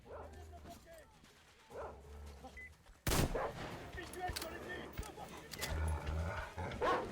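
A dog in the video game Metro Exodus barks in short bursts among sharp gunfire-like cracks, while someone talks over the game sounds.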